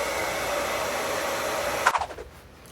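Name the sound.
hairdryer drying trainers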